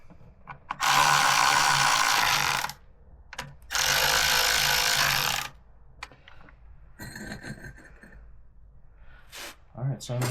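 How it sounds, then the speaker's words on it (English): A power tool whirs in two loud bursts of about two seconds each while tightening a clutch adjuster on a Harley-Davidson Road King, then hand-tool clicks and rattles follow, with someone talking quietly in between. "I'm not going to snug these down with this tool. I will do it with a hand tool."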